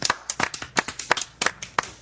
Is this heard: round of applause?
yes